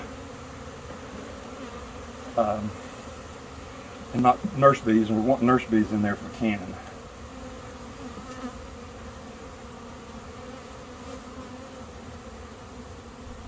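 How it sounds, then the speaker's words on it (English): Honeybees buzz steadily around an open hive during an inspection, a continuous close drone that runs under brief speech. "if the bees fly out, that's fine"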